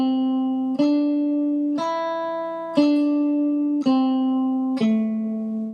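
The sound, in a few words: guitar played along to a very slow metronome click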